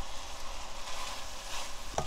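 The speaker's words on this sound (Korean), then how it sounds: "이걸 집어넣어. 양념장을 볶다가" Spicy red seasoning sauce is stir-fried in a pan before mussels go in, giving a steady, close sizzle and hiss throughout, with a faint clink near the end and no voices.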